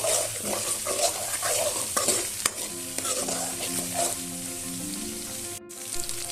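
Spice paste of ground roasted cumin stirs and fries in a pan for a foli fish curry, a steady sizzle with a spoon scraping in irregular strokes, close and continuous, with no talking.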